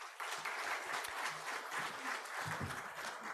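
Audience applause at a conference closing plenary, a dense sustained clapping from a crowd that starts sharply and continues steadily without talk.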